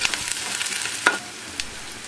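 Ginger paste and turmeric frying in a pan while being stirred, a soft steady sizzle with scraping stir strokes and one sharper clatter midway.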